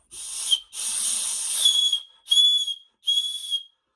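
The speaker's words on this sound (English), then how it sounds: "on the back here you've got a whistle, and it's actually kind of a fairly loud whistle" A loud whistle built into a Spyderco Assist knife blows in four sharp, shrill bursts, the second held longest, close and clear with nothing else around it.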